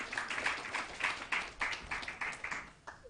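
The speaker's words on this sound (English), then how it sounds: "Warm round of applause, please." A conference audience at a data event in Africa claps in a round of applause, a modest rhythmic patter of hands that stays fairly faint and thins toward the end.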